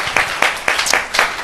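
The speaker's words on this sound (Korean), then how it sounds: "하나님께 한번 영광의 박수 한번 올려드려요" A small church congregation gives a short burst of applause during a Korean sermon, with sharp, fairly close claps in a loose rhythmic pulse of about four beats per second.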